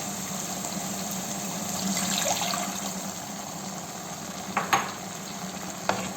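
Water poured into a hot pan of chicken kofta curry, a steady sizzle and bubbling hiss with a few louder spitting pops near the end.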